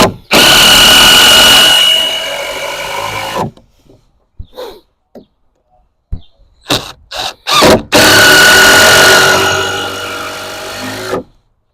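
A power drill drives screws into wooden raised garden bed boards in two long, loud whirring runs, separated by quieter knocks and handling clatter.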